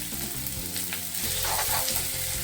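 Sliced onions and a ginger and green chilli paste sizzle in hot oil in a pan, a loud, continuous hiss that swells slightly partway through, with no talking.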